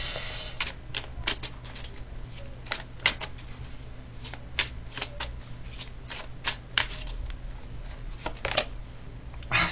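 A deck of cards is shuffled again and again for a card reading, with sharp riffling bursts repeating over a low steady background hum and no one talking.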